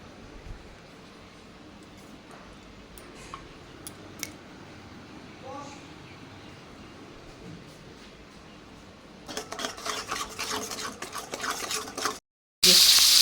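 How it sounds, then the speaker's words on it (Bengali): Bhetki fish frying in mustard oil: a quiet kitchen gives way to a few seconds of steady hissing sizzle, cut off by a brief loud burst of noise at the end. "এখানে ভেটকি মাছের কাটা ভাজতে বসিয়ে দিয়েছি"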